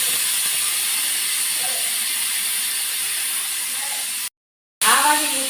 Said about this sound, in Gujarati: આ વાગી ગઈ આપણી બીજી સીટી,